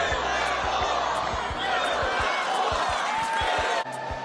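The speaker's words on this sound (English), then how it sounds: "You can hear the excitement here in the crowd. They're cheering" Crowd at a presidential rally cheering and clapping, a dense steady roar with sharp claps and thumps, voices talking over it.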